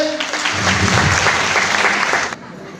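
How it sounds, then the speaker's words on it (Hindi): An audience at a company sales meeting breaks into loud, vigorous applause, dense clapping that swells and holds before cutting off abruptly near the end. "तो ये जोरदार ताली होना चाहिए"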